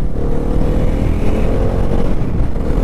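A Bajaj Pulsar motorcycle being ridden on the road between Nashik and Shirdi gives a steady, loud engine drone with rushing wind noise, close and continuous throughout.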